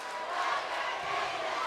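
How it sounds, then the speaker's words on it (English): Spectators at a high school volleyball game between Irving and Nimitz roar together in a gym, a steady, moderately loud wash of cheering and shouting voices with no single voice standing out. "Crowd getting alive, coming alive here."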